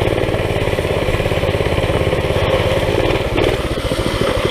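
A small, not very loud dirt bike engine runs nearby in a steady, continuous buzzing putter with no talk, wavering slightly near the end.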